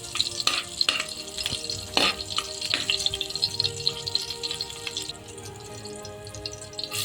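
Chopped green chillies and cumin sizzle in hot oil in a pan, with a close, steady crackle punctuated by sharp clinks of a stirring spoon against the metal.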